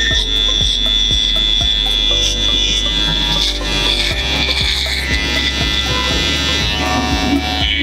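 Electric hair clippers trim a man's beard at a barber academy. A loud, continuous buzzing hum runs close by throughout, with faint crackling as the blades cut through the hair.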